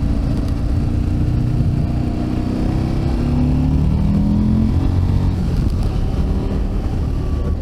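A 2021 KTM 890 Adventure motorcycle engine drones steadily and loudly while riding, with heavy wind rush blended in throughout and no break.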